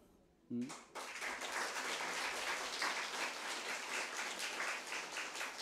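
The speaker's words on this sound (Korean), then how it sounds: "이렇게 박수를 쳐야 되는 거예요." After a brief faint voice, a church congregation bursts into sustained applause at a worship gathering, dense and steady clapping continuing to the end.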